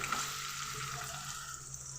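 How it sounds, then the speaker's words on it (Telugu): Chopped onion and green chili pieces fry in hot oil for a Telugu-style curry, a steady, close sizzle with a hiss throughout and no voice. "ఆయిల్ అయితే వేడెక్కింది ఉల్లిపాయ ముక్కలు పచ్చిమిరపకాయ ముక్కలు అయితే వేసేసాను"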